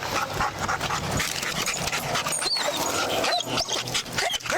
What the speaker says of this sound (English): I love when they bring the doggies out.